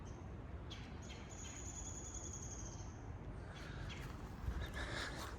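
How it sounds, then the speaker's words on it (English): Faint bird chirps and calls come through a quiet suburban backyard, set against a steady soft outdoor hiss, with no one talking. "Look how quiet, it's just birds."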